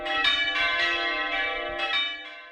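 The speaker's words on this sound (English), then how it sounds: "could bell ringing soon become a thing of the past?" Church bells ring out in a bright, ringing peal, several overlapping strikes sounding close and sustained over a couple of seconds with no voices.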